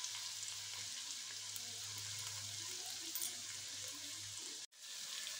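Sliced onions go into hot oil with frying garlic, giving a soft steady sizzle with a low hum beneath and a sudden short dropout near the end, faint and without speech.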